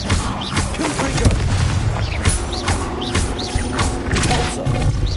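Confringo explosive spells cast during a fight in Hogwarts Legacy, a string of loud booming bursts and crashes over dense battle noise, without clear talk.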